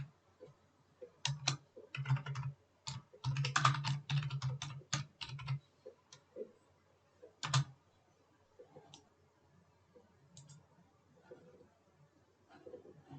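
Clicky bursts of typing on a computer keyboard, clusters of rapid keystrokes separated by pauses, then sparser isolated taps, close and fairly quiet with a faint voice in the background.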